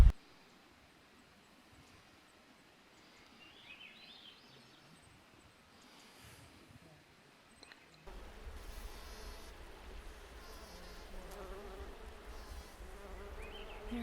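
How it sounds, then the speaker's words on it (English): Bees buzz faintly in the open air at a mountain mine site, a thin steady drone that grows louder and busier halfway through, with soft outdoor rustle beneath. "There are bees everywhere."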